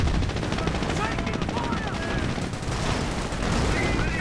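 Gunfire in a Company of Heroes battle as British infantry and Cromwell tanks come under fire, dense continuous shooting with a helicopter-like drone beneath, steady and loud throughout with commentary talk over it.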